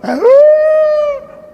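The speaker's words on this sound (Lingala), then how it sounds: "Yoka tango mbwa ganga" A single dog howls up close, a loud sustained wavering tone that rises at the start, holds steady and then fades, heard alone without voices.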